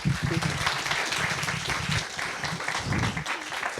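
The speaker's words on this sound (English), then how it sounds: "Please help me welcome them with a big round of applause" Audience applause at a talk welcoming two speakers on how Hitler came to power, a dense, continuous patter of clapping at moderate level with faint voices mixed in.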